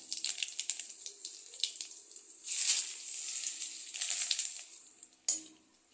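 Crushed coriander, cumin and fennel seeds crackle in hot oil as a tempering for a fish curry, with a few scattered pops, then a fuller hissing sizzle that swells midway and cuts off abruptly near the end.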